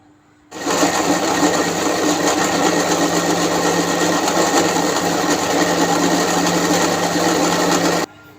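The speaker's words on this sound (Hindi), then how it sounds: "इसको हम कर देंगे बंद, और इसको अच्छी तरह हम पीस लेंगे" An electric chopper grinding a chicken nugget mixture with cumin, a loud steady high-pitched motor whine that starts abruptly, runs for about seven seconds and cuts off sharply.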